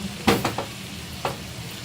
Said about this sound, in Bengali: চিকেনটাকে ভালো করে লো ফ্লেমে রান্না করে নেব 15 মিনিটের জন্য।